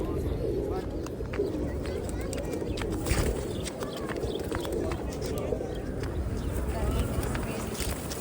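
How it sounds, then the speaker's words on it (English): Pigeons coo in a busy Sarajevo square, their calls low and mixed into constant outdoor bustle with voices and footsteps nearby. "See if we can move some of these pigeons."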